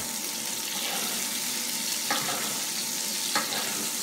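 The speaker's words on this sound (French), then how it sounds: "On l'arrose, hein, on le nourrit bien avec sa graisse." Duck breast sizzles in its own rendered fat in a pan while being basted, a steady broadband frying hiss with two brief spoon-like clicks, no talking.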